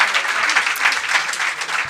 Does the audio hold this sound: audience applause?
yes